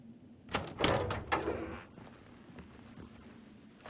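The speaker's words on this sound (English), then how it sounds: "this might be a loading screen door" A door opens during a loading screen in the survival horror game Daymare: 1998, with a few loud, close clunks and scrapes in the first two seconds that then fade into a low, steady hum.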